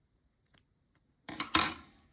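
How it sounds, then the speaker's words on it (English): A few faint clicks come first, then scissors give one close, crisp snip and a brief follow-up slice through crochet yarn ends, trimming them short, and no one speaks. "then I'm gonna cut them short"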